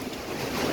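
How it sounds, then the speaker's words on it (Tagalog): Strong wind from a super typhoon roars as a steady broadband rush with surging gusts and water-like wash, loud and close against the microphone, with no talk. "lakas ng hangin"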